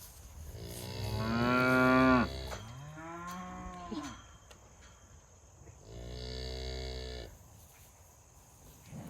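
Cattle moo in a pen on a farm, two long loud calls close together and a third fainter moo after a pause, with no talking.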